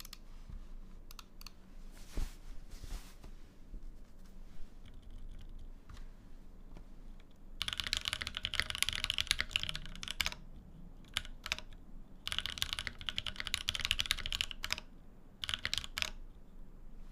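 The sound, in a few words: mouse clicks at keyboard level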